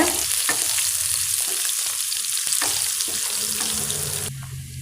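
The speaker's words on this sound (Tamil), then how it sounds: "இப்போ நாம் இதில் வெங்காயத்தை சேர்த்தலாங்க வெங்காயத்தை நல்லா வதக்கிக்கோங்க" Onions sautéing in a pan with chana dal make a continuous loud sizzle, punctuated by a few stirring clatters, close and unbroken for the whole stretch.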